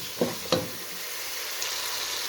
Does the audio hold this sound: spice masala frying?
yes